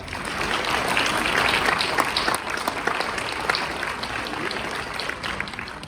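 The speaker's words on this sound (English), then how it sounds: "So give them a nice round of applause" A crowd at a chili charity cook-off event applauds steadily and loudly for several seconds, a dense continuous patter of many hands clapping with no voices standing out.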